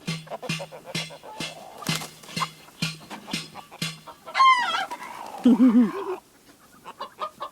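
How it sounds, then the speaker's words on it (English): Chickens and a small rooster cluck in a steady series of short calls close by, with a louder burst of squawking near the end and a person speaking briefly in the background. "That little rooster can fly."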